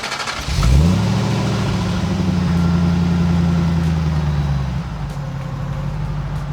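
A 1991 Chevrolet Corvette ZR1 V8 cranks, catches and rises into a loud, close rev. It then holds a steady high idle before dropping back to a rumbling idle.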